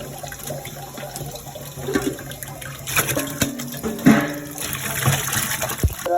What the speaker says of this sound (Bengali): আরেকটু লবণ দিয়ে সুন্দর করে আরেকটা ধোয়া দিয়ে নিচ্ছি